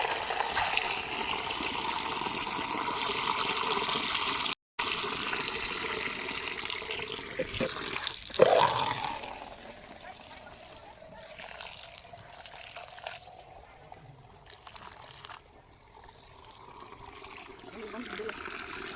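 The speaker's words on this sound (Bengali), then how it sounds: "চলো ঝটপট করে জলটা দিয়ে দিই।" Water pours and trickles onto potted garden plants outdoors, a steady wash that thins into lighter dribbling, with a person talking over it.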